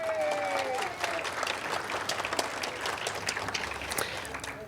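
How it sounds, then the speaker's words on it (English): An audience at a historical museum event applauds the museum staff, a lively burst of many hands clapping in a room, with a few voices and whistle-like tones mixed in near the start. "So please, a round of applause for my staff."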